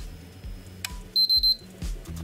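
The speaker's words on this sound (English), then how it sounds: "you can clearly hear the power supply switching on" Power supply of a white PlayStation 3 switches on with a click, then the board gives a run of five short, sharp, high beeps over a low repeating hum, loud and close, with no talking.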